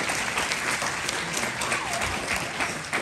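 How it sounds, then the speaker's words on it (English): Sustained applause from a sizable crowd at a wedding reception, dense clapping that stays loud and even throughout. "Can we give Paul a round of applause for sharing with us her moment tonight?"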